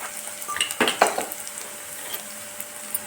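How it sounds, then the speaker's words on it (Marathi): Onion fries with peanuts in oil for a leftover chapati chivda, a soft steady sizzle close by, with a couple of louder scraping stirs near the start and then a quieter hiss. "कांदा भाजत आला की त्याच्यामध्ये आपण टाकणार आहोत शेंगदाणे"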